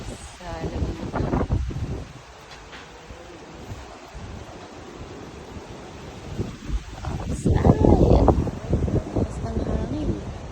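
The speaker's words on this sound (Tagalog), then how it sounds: "Ang lakas ng hangin." Gusty, cold wind in Laguna buffets the microphone in rumbling surges, strongest near the end, with rustling and voices speaking intermittently underneath.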